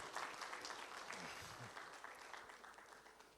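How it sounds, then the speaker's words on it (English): Audience applause at a university physiology quiz and workshop award presentation in Kigali, Rwanda, a steady, moderately distant wash of clapping that holds for several seconds. "Please give him a round of applause."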